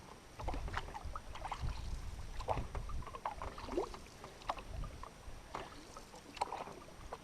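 A canoe is paddled on a lake: soft, repeated paddle strokes and splashes with water dripping, close by and fairly quiet against a light background hush.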